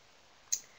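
A single sharp computer mouse click lands midway through an otherwise quiet moment, close and brief with a quick decay.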